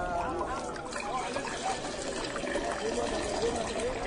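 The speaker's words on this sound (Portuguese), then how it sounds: "E eles encheram os potes até a boca." A steady wash of water is poured to fill stone jars in a purification setting, with liquid trickling and splashing continuously at an even, moderate level, under a constant murmur that sounds like voices.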